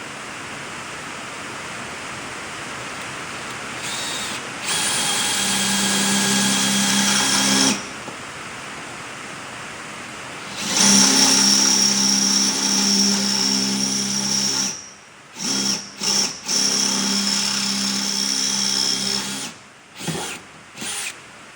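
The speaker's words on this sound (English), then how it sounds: "it might not drill the damn firewall" A loud power drill whines in two long sustained runs, then several short stop-start bursts as the bit grinds through metal.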